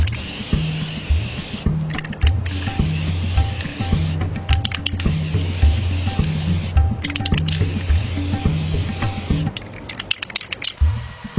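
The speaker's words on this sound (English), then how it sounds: "Now I will apply the second thin coat of the black paint." An aerosol can sprays a thin coat of black paint onto wheels in repeated short hissing bursts. A low tonal hum sounds underneath, and the spraying is close and fairly loud.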